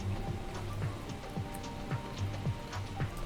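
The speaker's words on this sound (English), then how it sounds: "I do have the window open now so that I can enjoy the rain, and hopefully you're catching some of that on the recording" Rain heard through an open window indoors, a steady patter of drops with soft irregular taps near and far, fairly quiet and continuous, with no speech.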